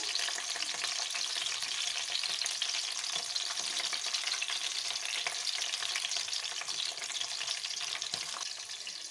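Stuffed capsicums fry in a pan while being turned over, giving a steady, close hiss of oil that carries through the whole stretch without a break.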